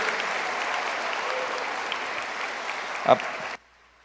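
Steady church congregation applause fills most of the clip with one louder knock near the end, then cuts off abruptly into near silence.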